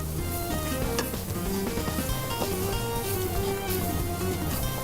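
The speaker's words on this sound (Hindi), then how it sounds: "ये मैदा भुन रहा है" Flour roasting in butter in a pan sizzles steadily throughout, with a dense continuous frying hiss and occasional stirring scrapes and light clinks of utensils; no one speaks.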